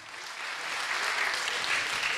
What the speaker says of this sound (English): Big applause, Etienne.